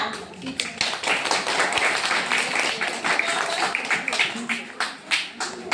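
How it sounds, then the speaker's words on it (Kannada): A crowd of parents applauds at a school parents' meeting, a sustained wash of clapping that grows uneven toward the end as individual claps stand out, with voices underneath. "ಇದೇ ಅಲ್ವಾ ಅಂತ ಹೇಳಿ ಇನ್ನೊಂದ್ಸಲ ಚಪ್ಪಾಳೆ ಮೂಲಕ ಹೇಳ್ತೀರಾ?"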